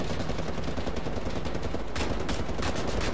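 Gunfire crackles in Wolfenstein: The New Order, a steady rattle like a machine gun firing in rapid bursts, with a few sharper cracks near the end, continuous and fairly loud.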